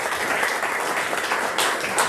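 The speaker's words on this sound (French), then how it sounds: "pour encore une fois les applaudir s'il vous plaît" Brief applause at a press conference for a sporting event, a soft, continuous patter of clapping hands from the room held at an even level for a couple of seconds.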